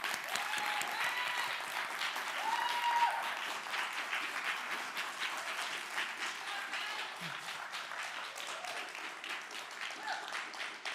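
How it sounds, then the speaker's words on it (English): Steady applause from a TEDx talk audience at Columbia College, SC, filling the room evenly at moderate volume for several seconds, with a faint voice briefly rising over it. "Let's give a warm applause for Matthew Rutin."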